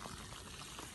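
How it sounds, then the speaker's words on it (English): Stream water boils in a Jetboil camping stove, a brief close rolling bubble and rush, loud and steady for about a second, with no talk. "Yeah, that is now boiling, so it's ready to pour into the dry food."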